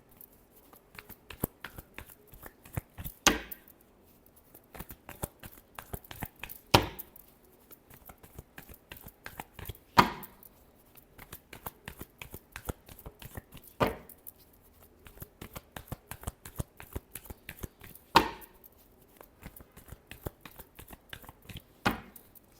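Tarot cards are shuffled by hand in a soft, rapid riffling patter, punctuated every few seconds by a sharper slap or snap as the deck is squared, close and quiet.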